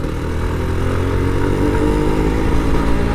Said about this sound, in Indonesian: Yuk kita panasin Ninja. Ini hari Sabtu, jadi kita panasin Ninja dulu.